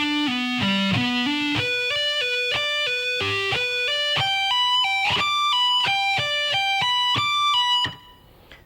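A distorted electric guitar plays a fast lick with tapping, hammer-ons and pull-offs high on the neck, a quick run of clear legato notes that stops abruptly near the end.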